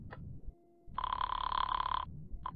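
An old telephone bell rings in a 1950 old-time radio detective drama, one steady metallic burst of about a second between short fragments of sound.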